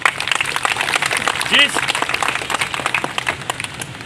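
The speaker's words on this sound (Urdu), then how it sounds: "تو ایک دفعہ تالیاں آپ اپنے لیے بجائیں" Audience clapping at a gathering, scattered claps mixed with a voice continuing to speak over them throughout.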